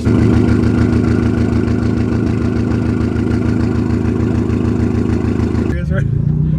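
A car engine on a cold start idles roughly and loudly through a Tomei Expreme Ti titanium aftermarket exhaust, a steady low rumble with uneven pulses that cuts off near the end.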